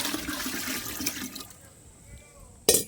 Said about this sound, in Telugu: మనం ఇది వాటర్ కలుపుతానండి ఇప్పుడు